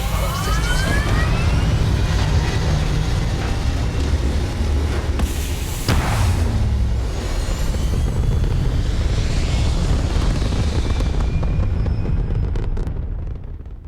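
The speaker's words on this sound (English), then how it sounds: "Liftoff looks good." Spaceship liftoff in the science-fiction game Starfield: a loud, sustained roaring rumble with rising whining tones and a sharp burst near the middle, continuous throughout and fading slightly at the end.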